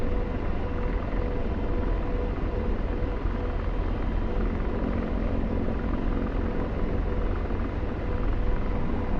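Steady, dense rotor and turbine roar of an Apache helicopter in the DCS World flight simulator, a constant loud drone holding unchanged throughout with no voices.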